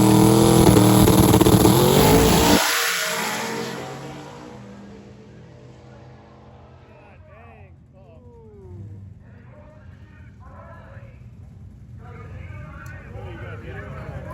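A race car makes a drag strip pass at a test and tune session on a summer day, loud and close at first with a roaring engine that cuts off abruptly, then fainter distant engine noise and a crowd chattering.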